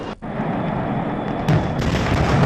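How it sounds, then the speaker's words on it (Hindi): Fire at the Harda firecracker factory, heard as a loud continuous roar of bursts and rumbling booms with a sharp cut and jump in intensity, no voices. "किस तरह से ब्लास्ट हो रहे हैं।"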